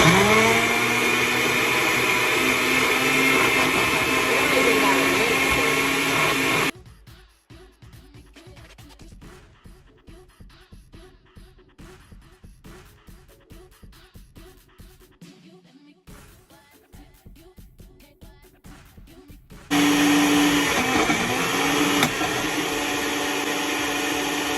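A blender whirs loudly through a frozen-fruit smoothie in a long steady burst, cuts off into quieter clatter and handling noises, then roars back on near the end.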